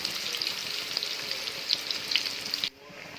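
Cauliflower florets frying in hot oil in a pan, a continuous close sizzle flecked with small crackling pops, cutting off abruptly to near quiet just before the end.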